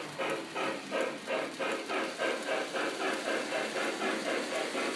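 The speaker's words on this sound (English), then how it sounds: "Now if I go to my steam sound" A model train's steam locomotive sound effect, a rhythmic chuffing with regular, evenly spaced puffs repeating steadily and moderately loud, and no voices.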